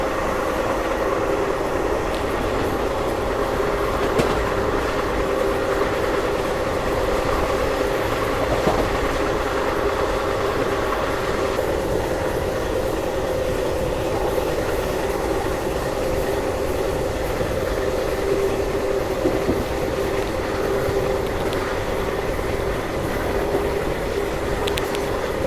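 A passenger train cruises at top speed, its steady rumble and rhythmic clatter of wheels heard loud and close from inside a carriage for the whole stretch, without pauses.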